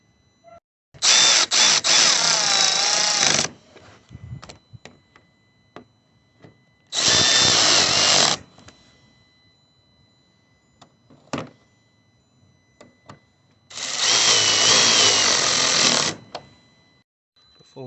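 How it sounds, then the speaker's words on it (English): A power tool tightens bolts on a Volvo headlight in three whirring bursts of two to three seconds each, close and loud, with quieter handling noises in the pauses between. "we're going to tighten up these bolts."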